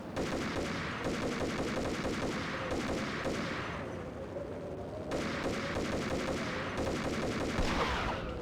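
Rapid gunfire from the Max Payne video game, dense bursts of shots repeating loudly through the whole stretch with brief pauses between volleys, no voices over it.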